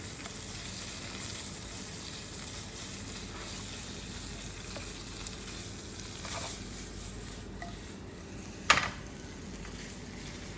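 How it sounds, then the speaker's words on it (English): Salmon pieces get a light fry in a pan for a cream cheese frittata, producing a faint, even sizzle that holds steady throughout, broken once near the end by a brief sharp clink. "we want to give them just a light fry, bearing in mind that salmon cooks really fast"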